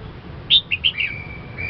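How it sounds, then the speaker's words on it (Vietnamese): Songbird singing in the early morning, a few quick high chirps and a short trill heard clearly over faint background noise. "Sáng sớm mà mình nghe tiếng chim hót như thế này,"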